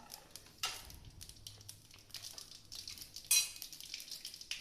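Mustard seeds, fenugreek, a single dried red chilli and curry leaves crackle and sizzle in hot oil, a steady close frying hiss with a few sharper pops and spatters.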